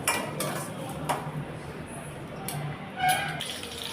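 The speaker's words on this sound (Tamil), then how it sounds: "நல்லா செவக்க வதக்கி விட்டுக்கலாம்." Small onions stirred in a pan for a village-style fish curry, with metal utensil scrapes and clinks against the pan, soft and close, a few louder knocks.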